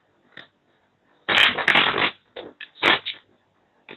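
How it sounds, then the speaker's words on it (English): Tarot cards are shuffled by hand in a quiet room in a few short, close, crisp riffling bursts separated by brief pauses. "Couple more shuffles here."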